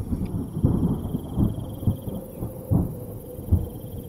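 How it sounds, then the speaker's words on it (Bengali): A dramatic thunderstorm with rising wind: rolling rumbles of thunder swell and fade in several low surges over a steady windy roar, with a faint high whistle lingering in the background. "হঠাৎ চারিদিক কালো হয়ে এলো, বাতাস বেড়ে গেল, তার পরপরই উঠল দামাল ঝড়।"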